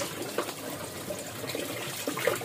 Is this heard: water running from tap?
yes